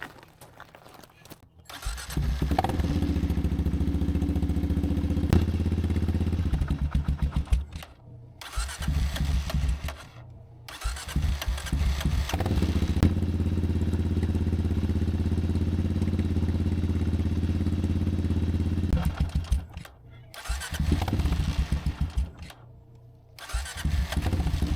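A Kawasaki KLR650 motorcycle with a freshly swapped engine cranks and fires up close by, settles into a steady idle, cuts out briefly, then restarts and idles on, loud and continuous with no talking.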